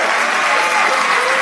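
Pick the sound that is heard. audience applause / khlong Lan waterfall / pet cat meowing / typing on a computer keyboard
audience applause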